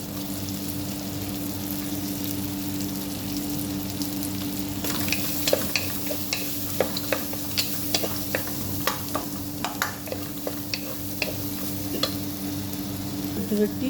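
A single onion, a cinnamon stick, three bay leaves and four garlic cloves sizzle in a little butter in a pan with a steady close hiss, joined halfway through by sharp clicks of a spoon stirring against the pan.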